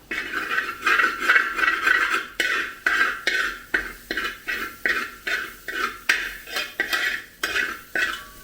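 Utensil repeatedly scraping and stirring egg masala rice in a pan, a steady rhythm of about two strokes per second, close and fairly loud, with no talking.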